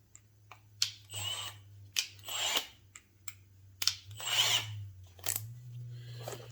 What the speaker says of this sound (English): So let's get that hole a little bit bigger